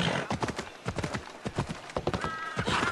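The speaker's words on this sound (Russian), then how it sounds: "Очень медленно скачет лошадь вокруг этих людей." A horse trots slowly with steady, close clip-clop hoofbeats in the video game Assassin's Creed Odyssey. A short whinny comes in near the end, and no one speaks.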